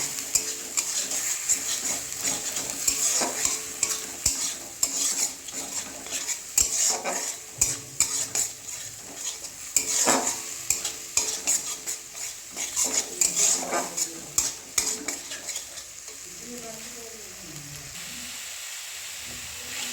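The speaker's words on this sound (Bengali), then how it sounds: "পেঁয়াজ আদা রসুন একসঙ্গে কাঁচা লঙ্কা পেস্ট দিয়ে ভালো করে লাল লাল করে ভেজে নিতে হবে" Onion, ginger, garlic and green chili paste frying in a pan, with a spoon stirring and scraping steadily over a soft continuous sizzle and clinks of cookware, no voices.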